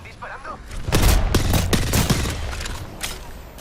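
Gunfire in a video game shootout, with several close, loud shots in quick succession and a shield-like impact mixed in, all over game sounds.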